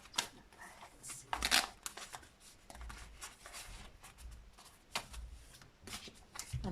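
A deck of tarot cards is shuffled by hand, soft riffling and sliding bursts repeating irregularly with quiet rubbing between, close and faint.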